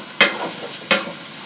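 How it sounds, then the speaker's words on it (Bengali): Chopped onions fry in a hot pan while being stirred, a steady close sizzle broken by two sharp scraping stir strokes about three quarters of a second apart; beef offal and meat are being cooked. "এখন পেঁয়াজগুলো দিয়ে দেব।"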